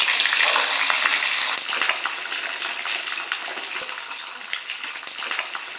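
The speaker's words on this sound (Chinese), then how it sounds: "豆汤的煎一下" Crucian carp fry in a pan with a loud, dense crackling sizzle that starts strong and gradually settles to a steady hiss with scattered pops, close up and alone.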